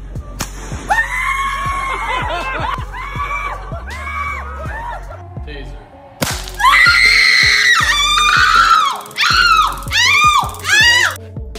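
A young woman screams repeatedly during a military taser test, long wailing cries broken into bursts, growing louder and higher partway through, with thuds and jolts between them.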